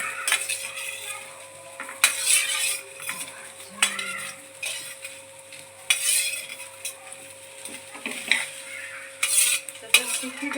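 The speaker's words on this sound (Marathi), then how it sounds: "बारीक चिरलेले जे भेंडी आहे ती ॲड करणार आहोत त्यानंतर त्यांना चांगल्या भाजून घ्यायचं आहे" Chopped okra roasting in a hot kadhai for a rustic village-style vegetable dish, with steady soft sizzling and repeated spoon stirring and scraping against the pan, close and alone without speech.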